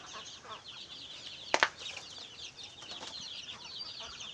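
A flock of about 35 young chicks peeps steadily alongside clucking chickens on a farm, with a brief louder flutter or squawk near the middle.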